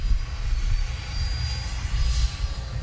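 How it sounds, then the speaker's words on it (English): A Freewing F-15 90mm RC jet plane flies overhead attempting a Cobra maneuver, its ducted-fan engine giving a steady, loud whining roar with a faint high tone, continuous throughout and no talking. "Let's see if we can make this jet do a Cobra maneuver."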